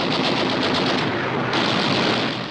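Enemy machine-gun fire in South Pacific jungle warfare from a wartime newsreel, a dense, loud continuous rattle of rapid shots filling the whole stretch, with a harsh, compressed old-film quality.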